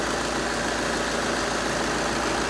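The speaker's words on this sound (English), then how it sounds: "Here's an engine." Idling 2012 Volkswagen Jetta TDI turbo diesel with a 5-speed manual, running as a steady, even engine rumble with no talk.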